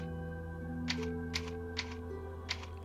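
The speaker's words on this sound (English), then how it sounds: "it brings up a typewriter, and you physically have to type the" Four separate clacks from a typewriter in Resident Evil 4, struck at an unhurried pace while a save file name is entered, heard over a steady game menu tone.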